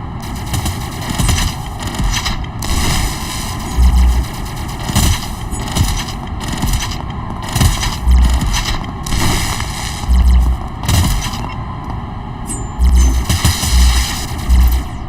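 Gunfire in the space game Boiling Steel plays as loud, dense bursts of shots and booming impacts that continue almost without pause, rising in heavy thumping clusters over a constant noisy wash.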